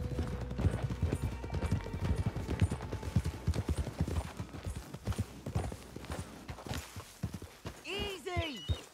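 Rapid, continuous hoofbeats of horses clip-clopping over a low rumble in Red Dead Redemption 2, followed near the end by a horse's whinny.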